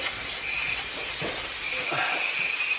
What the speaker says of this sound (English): I'm literally just gonna get some brake cleaner, blast it all up in here